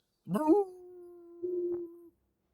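A single dog howl rises sharply then holds a long steady tone, breaks briefly, and resumes for a second drawn-out stretch, heard alone with no talk during a tabletop D&D session.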